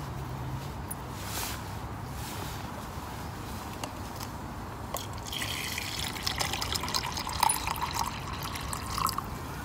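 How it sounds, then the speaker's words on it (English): Water poured from a container into an army canteen cup holding noodles at an outdoor camp under a poncho shelter, a soft steady trickle and splash that grows slightly busier toward the end, heard close with no talk. "Bung the water in as well."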